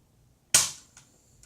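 Indoors, a BB gun fires one sharp, loud shot, followed by a short decay and a couple of faint clicks. No voices are heard.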